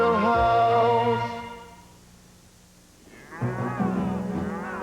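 Cattle mooing in open cattle country, two long, loud, resonant bellows separated by a brief quiet pause, close by and with no talking.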